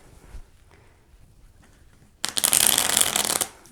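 Tarot cards being shuffled and handled close up: a quiet pause, then one dense, crisp burst of riffling and flicking that lasts just over a second before stopping.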